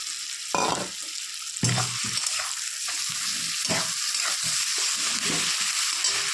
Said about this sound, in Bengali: পেঁয়াজটা একটু ভাজা ভাজা হয়ে গেছে এখন দিয়ে দিব এর মধ্যে চিংড়ি পাতা আর কাঁচা লঙ্কা পাতা